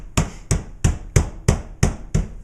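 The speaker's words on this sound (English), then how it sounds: "And then you just beat the meat gently but firmly." Seven evenly spaced, firm thuds of a hammer beating meat flat, each a sharp near impact with a short dull decay, alone with no talk.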